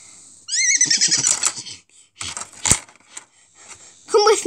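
Horse whinnying in a high, wavering neigh near the start, followed by clattering and rustling noises and another short burst of sound at the end.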